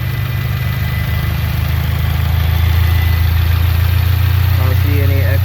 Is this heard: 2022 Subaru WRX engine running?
yes